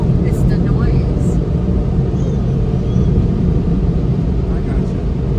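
An automatic car wash runs at Buc-ee's in Daytona, a loud continuous roar of dryers or machinery filling the space, with voices talking faintly underneath.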